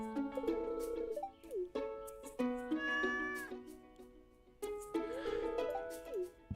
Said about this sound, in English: It's a kitty cat.